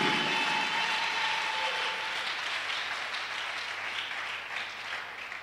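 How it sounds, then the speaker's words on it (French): A church congregation claps together in sustained, dense applause that fills the room. The clapping stays steady and loud, easing off only slightly toward the end. "Give the Lord a big clap offering"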